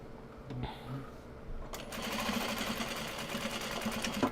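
A sewing machine stitches small box bags, its rapid mechanical chatter running steadily at close range after a brief pause and a few quiet clicks.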